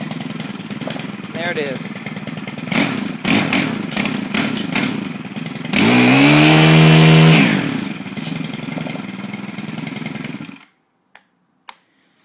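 A Stihl FS130R brush trimmer engine catches from a pull start in a backyard and revs up loudly for several seconds, then settles into a rough idle before cutting off abruptly, with someone talking over it.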